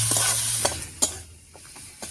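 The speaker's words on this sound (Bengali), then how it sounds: "এবার মশলাগুলো একটু নাড়িয়ে নিচ্ছি।" Spices fry in a pan for a bitter gourd curry, a close crackling sizzle punctuated by several sharp spatula scrapes and knocks against the pan.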